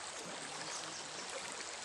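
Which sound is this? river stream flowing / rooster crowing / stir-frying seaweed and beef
river stream flowing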